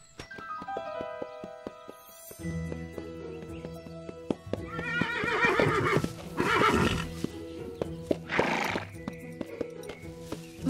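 A horse in the Mia and Me cartoon whinnies loudly in several drawn-out bursts over a steady musical backdrop, with sharp hoof clip-clops scattered throughout and a few clustered hits near the end.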